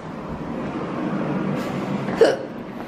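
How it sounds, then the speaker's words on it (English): One short, sharp hiccup near the end cuts through a steady low rumble of background noise, with no talk around it. "Oh, I've got hiccups."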